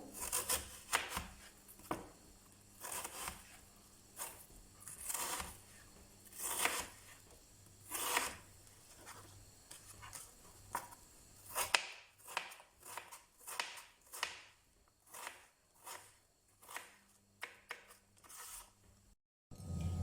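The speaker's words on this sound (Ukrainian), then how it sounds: "Нарізаємо його невеличкими кубиками." A knife chops a peeled apple into small cubes on a board, giving a steady run of close, crisp cuts and scrapes with brief pauses and no talking.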